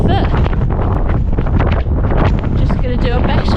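Strong wind buffets the microphone on an open Lake District fell between Branstree and Selside Pike on a sunny day, a loud continuous roar with gusty surges throughout.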